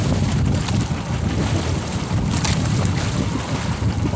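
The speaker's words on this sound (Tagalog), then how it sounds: "Lakas yung hangin." Strong northeast monsoon wind buffets the microphone in a loud, roaring rush, mixed with the wash of water around a moving boat.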